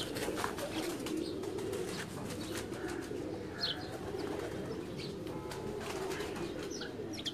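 A khaki pigeon on a Lahore rooftop coos softly amid steady outdoor ambience, with a few brief chirps and a short flutter of wings partway through, fairly close.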